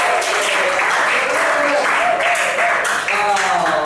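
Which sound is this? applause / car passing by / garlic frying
applause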